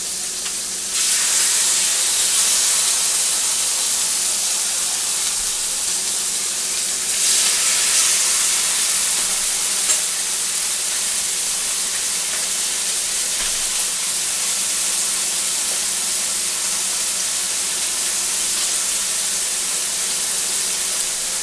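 Chicken breast pan frying, a loud, steady hiss of sizzling fat that holds evenly for a long stretch, close up with no talk.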